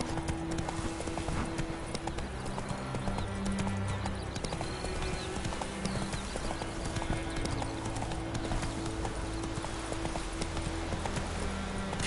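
Roach the horse clip-clops along in The Witcher video game, a steady rhythmic run of hoofbeats continuing throughout at an even volume.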